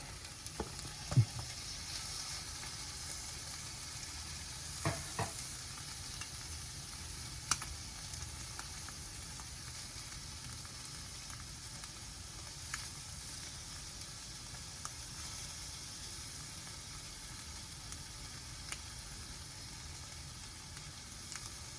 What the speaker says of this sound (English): now you've got your eggs cooking on one side and your shrimp cooking on the other side